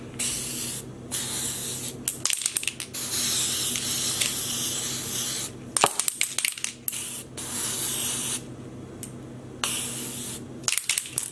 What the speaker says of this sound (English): obviously, it's marketed as silver food coloring spray